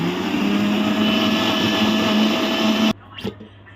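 An electric mixer blender spinning eggs with vanilla essence, a loud steady whirring hum for about three seconds that stops abruptly, leaving a faint clatter afterward.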